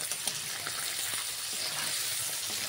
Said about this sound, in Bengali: দিয়ে ভালো করে আমি একটু ভেজে নেব।